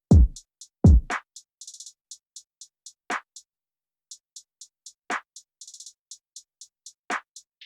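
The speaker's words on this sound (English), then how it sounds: "here's the kick, the snare, and the hi-hats" Lo-fi chillwave drum samples together: two deep thumping kicks up front, snappy snares landing on off-beats, and a steady patter of bright hi-hat ticks with quick rolls, clean and alone with no voices.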